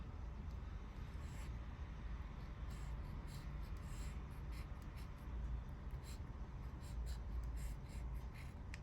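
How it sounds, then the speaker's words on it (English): A Junhao fountain pen scratches across paper, a close, faint, continuous scritching with small repeated strokes over low room noise, no voices. "I'm gonna write with my Junhao."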